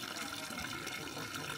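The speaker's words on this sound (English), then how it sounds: "It's clean water coming out." Clean drinking water pours steadily from a lion-head fountain in an Italian hill-town piazza, a continuous close splashing rush with a faint voice in the background.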